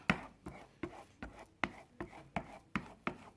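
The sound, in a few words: scraping scrambled egg in a frying pan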